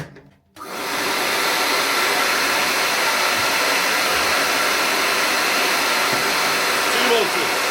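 A workshop dust extractor switches on and runs on one motor, giving a loud, close, steady roaring whoosh that holds evenly after a short quiet start.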